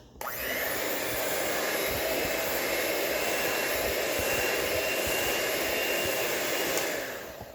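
An electric hand mixer beats confetti cupcake batter in a bowl, a steady close whirring drone that starts abruptly and runs without a break, with no talk over it.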